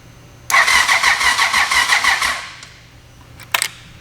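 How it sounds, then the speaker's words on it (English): Starter motor on a cheap auction motorcycle cranks for about two seconds after the key is turned, a loud close rhythmic whirring that fades out, followed by a brief clunk. "when I turn the key, the light should turn on and the starter should work"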